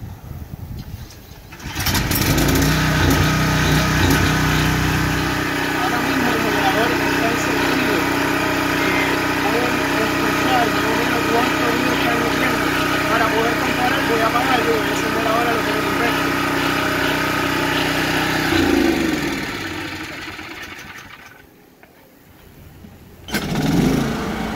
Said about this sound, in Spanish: Primero voy a encender el generador convencional para que escuchen cuánto ruido emite el mismo